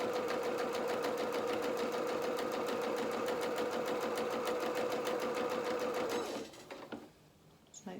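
A sewing machine runs steadily, stitching doll clothes in a fast even rhythm, loud and close for about six seconds before stopping, leaving faint handling sounds.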